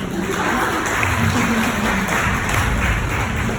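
An audience claps in a dense, even wash of applause that holds steady without pause for several seconds.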